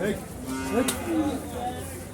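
Cattle mooing at the Gabtali cattle market during the Eid sale, a few drawn-out lowing calls close by, with farmyard background noise and no talking.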